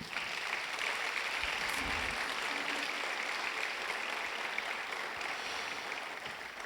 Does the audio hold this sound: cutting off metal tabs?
no